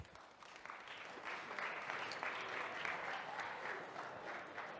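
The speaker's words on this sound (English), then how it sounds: "Please welcome Laura Melngalve and Eduard Žēris to the stage. Applause." An audience applauds steadily as a startup team walks onto the stage at a tech pitch competition finals, a dense, even wash of clapping that holds at moderate loudness throughout, with no voices standing out.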